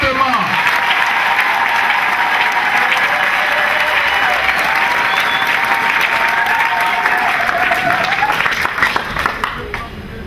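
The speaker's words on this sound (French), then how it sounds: "je vous demande aussi de les applaudir fortement" A large audience at a French-language gathering breaks into loud, sustained applause with a few voices mixed in. The dense clapping holds steady for most of its length before thinning and fading near the end.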